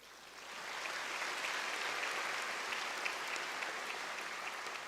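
Audience applause at a bar oath-taking ceremony, a steady wash of many hands clapping that swells in and holds, moderately distant in a large hall.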